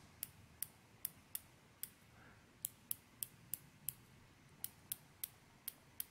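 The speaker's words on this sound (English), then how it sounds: "It is actually a 90 click bezel, not 120 click" Sharp, crisp ratcheting clicks from the 90-click bezel of a San Martin 62mas automatic dive watch, about fifteen of them in irregular bursts, close up and alone over faint background hiss.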